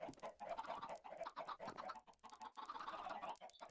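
A Minecraft chicken clucks in a quick series of faint, choppy bursts with short pauses between them.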